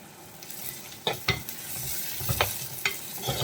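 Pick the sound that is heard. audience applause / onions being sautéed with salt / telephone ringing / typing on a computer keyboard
onions being sautéed with salt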